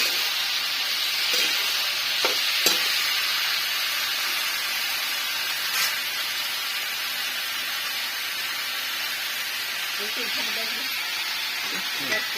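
Tomatoes fry in hot oil with a continuous close hiss and sizzle. A few clicks and stirring knocks come through, and a faint voice is briefly heard near the end.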